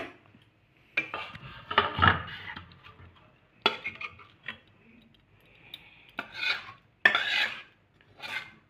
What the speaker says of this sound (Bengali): এরপর তরকারিটা আমরা বাটির মধ্যে ঢেলে নেব